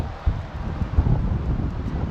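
Strong wind blows over an open hilltop near a tall carved standing stone, buffeting the microphone in steady gusts with a few heavier thumps and no voices.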